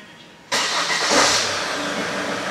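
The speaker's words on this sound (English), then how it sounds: "car should start" A Holden Captiva engine cranks and fires after a PCM software flash, a sudden loud catch that settles into a steady close idle.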